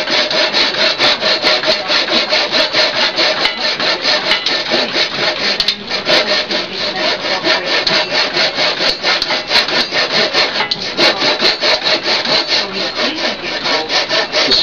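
A hand saw cuts a wooden tenon for a rustic bed frame, with steady, loud rasping back-and-forth strokes in a continuous rhythm, close up and alone.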